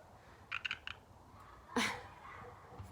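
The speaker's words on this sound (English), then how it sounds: "Can you guys hear this frog while I'm talking?" A frog croaks outdoors in a quick run of three or four short rasping calls, then lets out one louder, harsher croak a moment later, all fairly close and clear over a soft background hiss.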